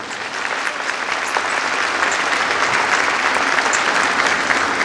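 Congregation applauding at an Easter church service at St Mary's Church, Gulberg, a steady wash of many hands clapping throughout, dense and even with no voices standing out.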